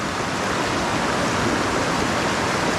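A river flows in a steady, dense rush of water heard close and loud throughout, with no voices over it.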